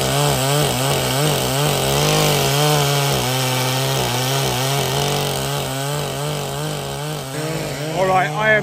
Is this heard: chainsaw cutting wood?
yes